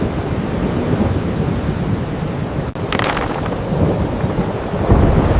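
A thunderstorm at sea, heavy rain and wind roaring steadily, with a sharp crackling thunder burst near the middle and rumbling swells afterward.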